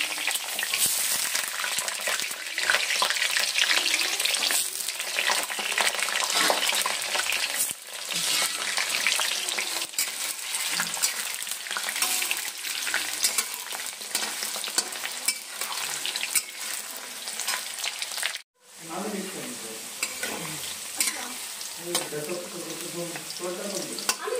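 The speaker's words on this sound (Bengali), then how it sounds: "আলু আমার লাল করে ভাজা হয়ে গেছে" Potatoes fry in hot oil with a loud, dense, continuous sizzle and crackle close up, briefly interrupted by a short break before the spitting resumes.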